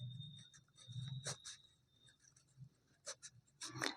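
Pen writing on paper during a maths lesson, with faint scratchy strokes in short scattered bursts, quiet and close, with no talk over them.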